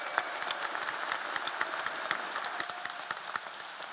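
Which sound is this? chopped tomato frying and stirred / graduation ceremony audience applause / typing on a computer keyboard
graduation ceremony audience applause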